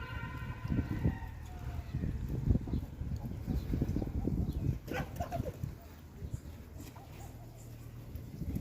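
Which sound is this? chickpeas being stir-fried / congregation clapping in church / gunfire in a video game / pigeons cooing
pigeons cooing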